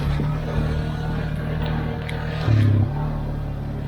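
An ATV engine runs steadily at close range while being ridden outdoors, a low continuous drone that swells briefly into a louder rev partway through.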